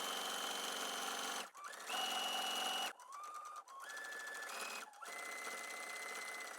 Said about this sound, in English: we're going to stitch really close to this edge here with normal thread